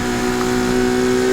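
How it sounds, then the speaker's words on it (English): A Ferrari V12 engine in the Need For Speed racing game holds a steady, loud, droning rev with a constant whine, alone and continuous. "With that Ferrari V12. It doesn't sound that good in the game."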